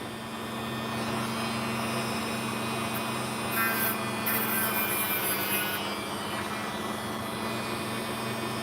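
An opal is sanded steadily to remove the last grit from its face, a continuous close abrasive rubbing with a brief brighter scrape partway through, no voices.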